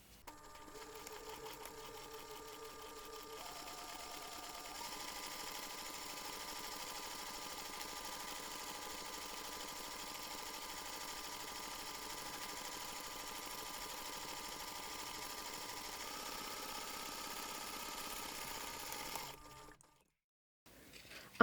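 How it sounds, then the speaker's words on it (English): A sewing machine stitches a curved seam while making a press lock closure, running steadily and evenly for about twenty seconds at close range, then stopping abruptly near the end. "Then you can take this to the machine and sew the seam around the curve."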